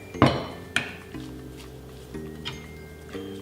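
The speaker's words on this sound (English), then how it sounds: "Let's give it another stir." A utensil stirs Cambodian prahok dipping sauce in a bowl, giving a few sharp clinks and light scraping over a low steady hum, with no voices.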